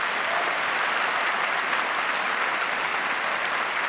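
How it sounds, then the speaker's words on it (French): An audience applauds a martial arts demonstration at a festival in northern Europe. The clapping is dense and continuous, holding at an even, full loudness for the whole stretch with no talk over it. "Ça a plu au public qui vraiment a applaudi cette démonstration"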